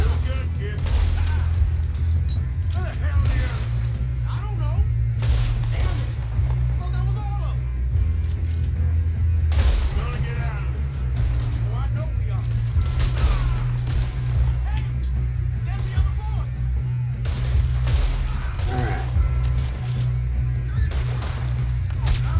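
Rapid gunfire from the Red Dead Redemption 2 video game, sharp repeated reports scattered through a steady low engine-like rumble, with people talking over the shooting throughout.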